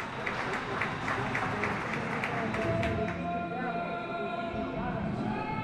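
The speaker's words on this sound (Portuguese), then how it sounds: "Vai sendo aplaudido aqui por quase todo o Expo Centro." An indoor athletics arena crowd at the Portuguese indoor track championships in Pombal applauding a long jump, a dense steady wash of clapping and crowd noise close and continuous throughout, with a commentator's voice faintly underneath.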